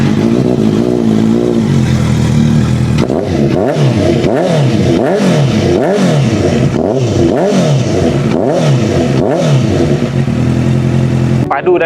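A Honda CBR motorcycle engine idles in a showroom, then is revved in a rapid series of rising and falling bursts, loud and close, before settling back near the end.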